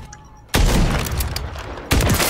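Loud, booming sniper rifle shots in a first-person shooter video game, with one sharp blast ringing into a long echoing tail and a second shot near the end, close and dominant over faint background game sound.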